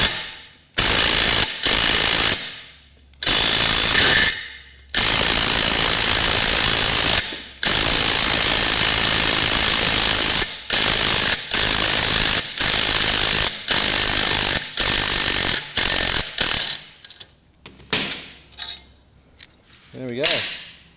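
An impact-driven puller pulls a bushing from a motorcycle five-speed transmission case, giving repeated loud rattling bursts of a few seconds each with short gaps, then tapering into quieter intermittent clicks and brief sounds near the end.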